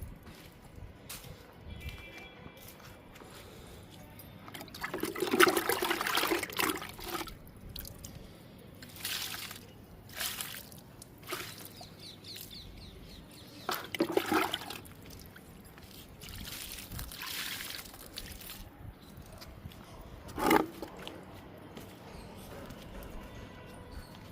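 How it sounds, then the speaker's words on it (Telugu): Liquid fertilizer poured onto potted table roses, heard as several soft splashing pours and trickles spread through a quiet outdoor garden, with faint drips between them. "వీటన్నిటికి ఇచ్చేద్దాము లిక్విడ్."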